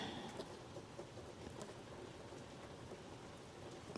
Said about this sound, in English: That rain is nice and soothing.